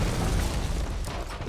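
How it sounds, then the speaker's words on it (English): A gunpowder stash blows up in Stronghold: Warlords, a dense, rumbling explosion roar that fills the whole short moment at steady loudness, with crackling debris texture throughout. "the ability for a live trail to trigger the explosion of not only gunpowder stashes"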